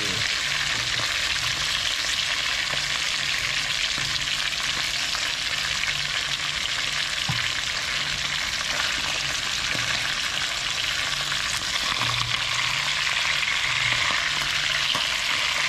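Crispy garlic and chili frying in hot oil, a steady close sizzle with the soft scrape of stirring running continuously throughout, no voices.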